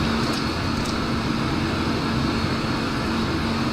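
Embraer jet on approach to land in Microsoft Flight Simulator 2004, a loud constant engine roar with a steady tonal whine and broadband rush that holds unchanged throughout.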